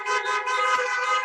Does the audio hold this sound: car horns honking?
yes